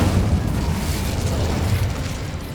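Incendio fire spell cast in the Hogwarts Legacy video game: a loud, sustained whooshing, rumbling burst of flame that roars steadily for a couple of seconds and eases slightly at the end, with no talking.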